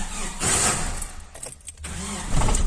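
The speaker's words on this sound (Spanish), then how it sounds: "vamos a dar arranque ahora" A car engine with a clutch noise cranks sluggishly and heavily, then catches and settles into a close, steady running rumble.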